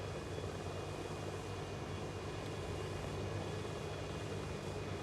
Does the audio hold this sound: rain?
no